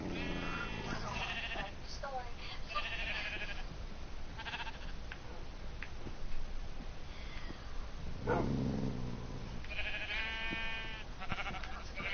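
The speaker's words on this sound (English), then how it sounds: "Black sheep got bit in the ass." Sheep in Minecraft bleat repeatedly after one is bitten by a dog, wavering cries clustered at the start and end over a busy background of game sounds and other animal noises.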